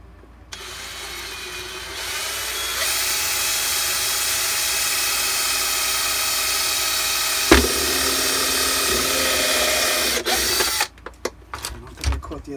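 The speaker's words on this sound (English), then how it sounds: "let me drill the hole first for that" A power drill bores a hole in plastic, whirring steadily for about ten seconds, a loud, sustained high whine, then stops and a few clunks and knocks follow.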